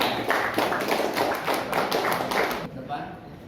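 A small group claps for Diva in an indoor session, with dense, uneven hand claps over about two and a half seconds before they stop abruptly. Faint talk can be heard underneath.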